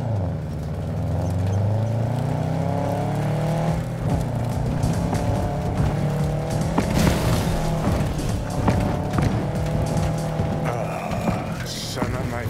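Car driving in Cyberpunk 2077, a steady engine drone with shifting pitch and occasional bumps running throughout, with voices talking over it.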